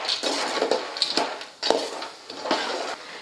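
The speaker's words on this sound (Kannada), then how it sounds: "ಇವು ಎಣ್ಣೆಗೆ ಫ್ರೈ ಮಾಡ್ಕೋಬೇಕಾಗ್ತದೆ ಶೇಂಗಾದ ಕಾಳು" Peanuts in hot oil being stirred for churumuri, with repeated metal scrapes and clinks of a spoon against the pan over a soft frying hiss, close and in uneven strokes.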